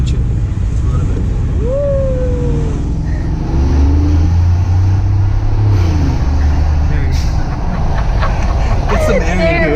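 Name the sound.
Mercedes G550 4x4 Squared accelerating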